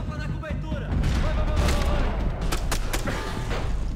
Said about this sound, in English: I'll take a few machine gun bullets to the chest